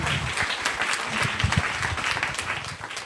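Short burst of audience applause thanking New York Times correspondent Edward Wong after his talk at an evening book event; dense clapping, fairly loud and steady, with a few heavier claps standing out near the middle.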